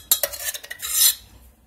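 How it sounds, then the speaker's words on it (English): A spoon scrapes and stirs through homemade laundry-detergent slime goop, giving a few close clinks and wet smearing scrapes that swell into a brief squishy rasp before fading. "So I'm going to pick it up with a spoon."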